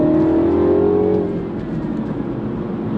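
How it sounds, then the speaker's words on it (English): A 2016 F56 Mini JCW engine revs with a throaty tone, a near, loud rising growl that peaks and then eases into a steady lower drone as it settles. "it's a completely different sound to the JCWs I've driven before, quite kind of throaty"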